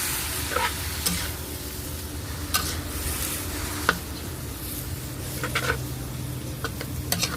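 Glass noodles stir-fried in a pan with a little added water, giving a steady sizzle with scraping utensil strokes and occasional sharp clicks against the pan, close up with no talking.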